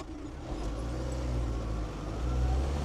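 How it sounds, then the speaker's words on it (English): A Land Rover 300 Tdi 110 on a road test, its engine droning steadily from inside the cab with a faint whistling turbo noise over the rumbling road and engine. "Turbo's still noisy"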